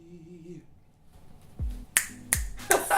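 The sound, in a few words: finger snapping in appreciation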